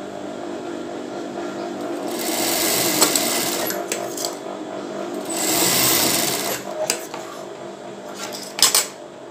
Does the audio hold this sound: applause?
no